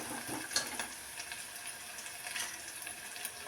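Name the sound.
sautéing ginger garlic paste in a pan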